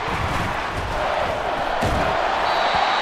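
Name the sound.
stadium crowd roaring in the video game Madden NFL 24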